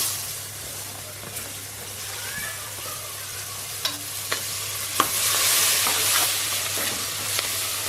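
Onions and green chillies fry with masala in a pan for biryani, a constant close sizzle and hiss broken by several sharp spoon taps and scrapes against the metal, louder toward the end.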